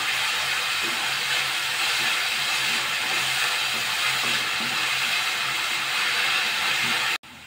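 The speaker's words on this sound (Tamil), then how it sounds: "வெங்காயம் நல்லா வதங்கி வரட்டும்." Onions sautéing with curry leaves in a pan over a medium flame while a Tamil paneer gravy is cooked, a steady, loud, broadband sizzle that holds evenly throughout before cutting off abruptly near the end.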